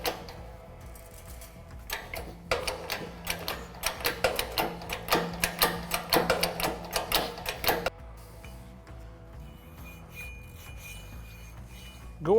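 A flat file rasps across the back of a Jeep JK ring gear, a series of rhythmic scraping strokes up close, then quiet handling noises.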